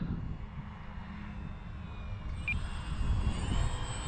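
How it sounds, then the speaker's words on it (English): An Arrows Trekker, a simple four-channel RC model plane, drones overhead in flight with a steady, moderately distant motor whine that swells slightly near the end. "she's just a simple 4-channel plane, but she's just a solid little plane, just solid little flyer"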